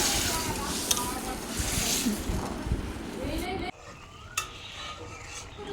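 Ash gourd curry being stirred in a pan with water added, soft scraping and sloshing with a few utensil knocks, busy and close at first, then quieter after a brief cut.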